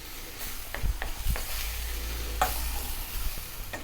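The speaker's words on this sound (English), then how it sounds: "I've got some green onions here, scallions or spring onions, whatever you call them, chunky cut. Off goes the heat. We're going to stir that in." Green onions are stirred into a sizzling pork and vegetable Chinese-style stir fry with the heat switched off, a steady low sizzle broken by a handful of sharp scrapes and clanks of the utensil in the pan.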